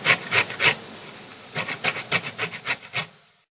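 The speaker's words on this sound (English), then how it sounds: "the first thing Irene does is grate the outer layer of the lemon peel" A thick-skinned lemon's outer peel being grated, with a series of rough rasping strokes scraped close up, steady and fairly loud, fading out at the end.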